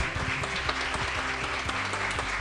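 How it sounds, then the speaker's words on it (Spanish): An audience applauds to welcome a speaker onto the stage at an event, a continuous wash of clapping underlaid by low background music or room hum. "Fuerte los aplausos para recibir a Milagros Haddad"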